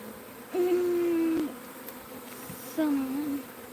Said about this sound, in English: We're just going to move the last of these bees that are down here the same way.